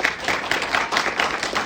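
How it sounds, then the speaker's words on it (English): An audience at a conference presentation claps in a steady, dense patter of applause that continues for the whole moment. "Let's give them a round of applause."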